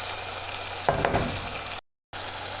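Seasoned food fries in a pan with a steady, close hiss and crackle, with a short stir-like clatter partway through and a brief dropout of silence, no talking.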